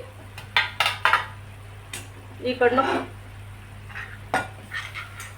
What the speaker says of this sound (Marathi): आता आपण ही कढई खाली उतरवून ठेवू